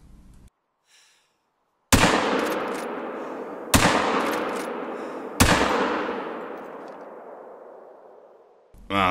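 Rifle shots fired at a bear in theHunter: Call of the Wild: three loud, sharp reports a couple of seconds apart, each trailing off in a long echoing decay across open terrain.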